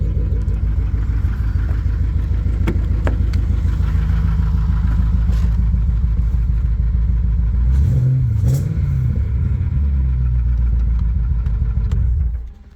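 A Jaguar XF racecar engine runs loud and close with its intake removed, a steady throbbing idle with a sharp rev burst near the end before it cuts off.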